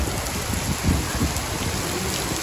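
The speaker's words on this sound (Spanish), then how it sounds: "Y se puso bien recio el agua." Heavy rain pours down over the central park of La Unión in Escuintla, Guatemala, a dense, steady roar of drops hitting surfaces up close with no pauses.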